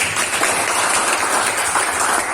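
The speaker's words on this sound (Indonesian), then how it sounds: "tepuk tangan untuk kelompok 5" A classroom full of people claps together after a group presentation, a dense, continuous patter of applause that stays fairly even from start to finish.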